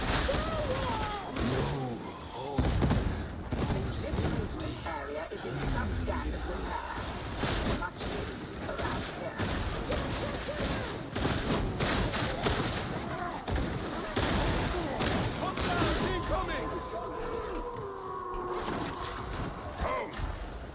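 Autogun mag-dump fire in the Warhammer 40,000: Darktide shooter, sustained and dense with sharp bursts running throughout, mixed with game noise and someone talking over it.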